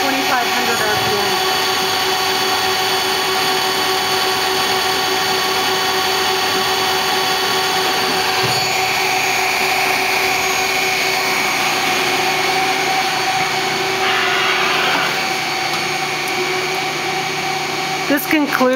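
A Citizen L32 CNC Swiss lathe runs at 2,500 RPM with a steady, loud mechanical whine and hum that holds unchanged for the whole stretch, followed by a brief clatter right at the end.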